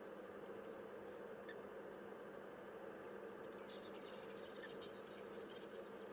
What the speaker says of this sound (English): The sounds of cicadas just kind of, almost sounds as if they're shaking trees.